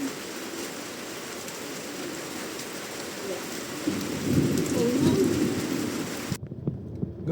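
Heavy rain pours steadily during a storm at a rice field in Floridablanca, Pampanga, with rumbling thunder swelling in the middle before the sound cuts off abruptly near the end.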